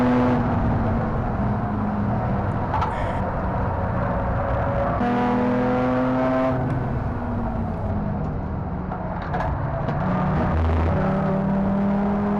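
Race car driving on a track during a club race, its engine close and loud inside the cabin, a continuous roar with shifting pitch as it revs up and changes gear.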